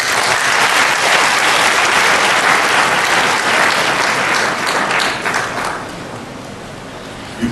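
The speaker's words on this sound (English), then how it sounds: "Round of applause for him." Audience applause at a university inaugural lecture, a loud dense wash of clapping from a large crowd that holds steady for several seconds and then thins and fades toward the end.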